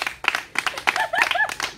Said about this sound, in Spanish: Un aplauso para la cumpleañera.